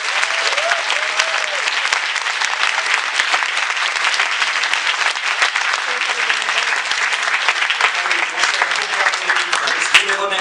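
A festival closing ceremony audience gives the volunteers a loud, sustained round of applause, with dense, continuous clapping from a large crowd filling the room for several seconds.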